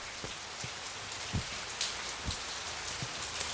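Steady rain falls at night and patters on a surface, with scattered heavier drops landing nearby, no voices.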